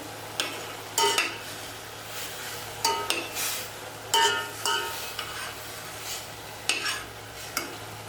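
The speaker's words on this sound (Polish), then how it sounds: "Mieszamy." Chopped mushrooms are stirred in a frying pan, with scrapes and clinks of a utensil against the pan coming in irregular bursts. A faint sizzle runs underneath.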